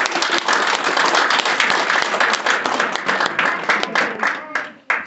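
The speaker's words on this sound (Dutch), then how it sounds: "Ik wil ook een applaus voor Uriel" A lecture audience gives loud, dense applause that holds steady. It thins into a few scattered claps just before stopping.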